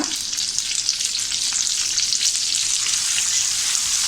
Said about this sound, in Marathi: आता त्यातच आपण ही कोथिंबीर फोडणीला घालूया।